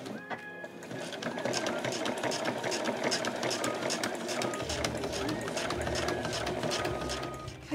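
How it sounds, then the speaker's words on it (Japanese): A sewing machine stitches fabric and tabs for a handmade IC card holder, starting after a brief pause and running as a steady, fast mechanical whirr and clatter, close and continuous, with a voice faintly heard over it. "もうねミシン終了ですね"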